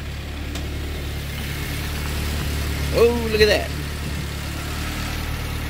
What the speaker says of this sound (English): You can see it's idling really nice right now.